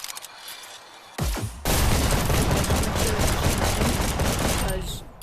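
Rapid bursts of gunfire and booming blasts in the shooter game Hyper Dash, loud and dense after a brief quieter lead-in, continuing almost nonstop.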